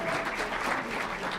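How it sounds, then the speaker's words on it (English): An audience at a Martin Luther King Jr. birthday celebration gives a rabbi a round of applause, a soft, even spread of many hands clapping, steady and somewhat distant throughout. "Let's give the rabbi a big round of applause"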